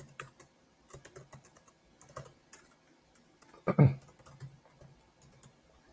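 Computer keyboard typing while filling out an online form, a quiet run of scattered key clicks and short bursts across the whole stretch, with one louder cluster of taps near the middle.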